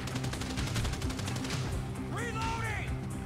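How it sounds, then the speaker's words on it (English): An assault shotgun fires repeatedly in GTA 5, a fast series of loud booming blasts in steady rhythm over a dense background, followed by a voice shouting briefly. "Have a assault shotgun!"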